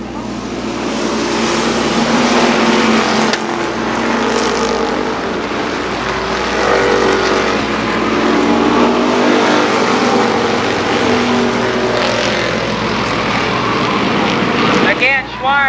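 Race cars at Columbus Motor Speedway during the 1995 Firecracker Championship, engines roaring continuously and loudly around the oval, a dense sustained drone with a public-address commentator talking over it throughout.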